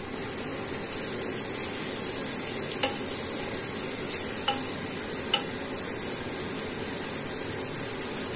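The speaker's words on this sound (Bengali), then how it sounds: "চিলি ফ্লেক্স অ্যাড করে ভালোভাবে নেড়ে নিলাম" Chili flakes are stirred into onions frying in a pan for garlic bhindi do pyaza: a steady, even sizzle with a few sharp spoon scrapes against the pan, and no talking.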